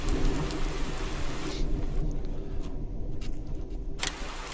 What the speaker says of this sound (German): Immer noch Gewitter hier.